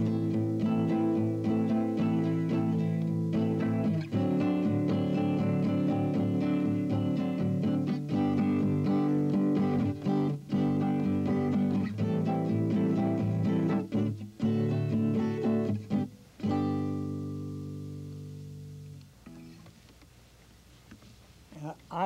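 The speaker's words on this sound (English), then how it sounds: "I'm going to illustrate a two-bar pattern, the first bar being 3-3-2, and the second bar being 2-3-3" A jazz guitar plays a syncopated two-bar rhythm pattern, grouped 3-3-2 and then 2-3-3, with close, repeated chord stabs and brief gaps, trailing off into a softer ringing passage near the end.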